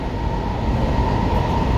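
A Washington Metro Silver Line train runs along the track through the new Dulles Airport station, a loud, steady rumble with a sustained whining tone and no talking.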